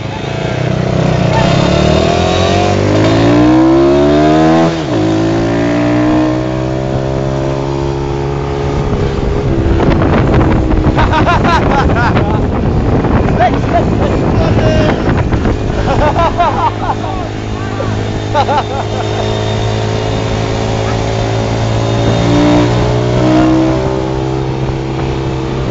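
Gilera Runner scooter engine screaming at high revs during a wheelie, loud and close with rising and falling pitch sweeps, accompanied by wind buffeting and voices of people talking and shouting nearby.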